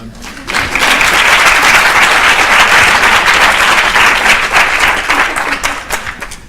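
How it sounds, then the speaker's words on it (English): A large seminar audience breaks into loud, sustained applause, dense clapping that swells quickly and tapers slightly toward the end. "let's thank him with a big applause"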